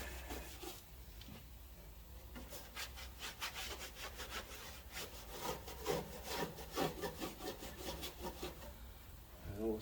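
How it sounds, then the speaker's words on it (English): Scrubbing on a Ferrari 599 GTB during detailing: a steady series of brisk back-and-forth rubbing strokes, close and fairly quiet, with no talking. "I'm going to give it a good scrub."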